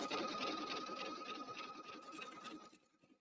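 A Pfaff sewing machine runs steadily through a zigzag stitch around a fabric edge, a close, continuous whirring rattle with a fast stitching pulse that eases off near the end.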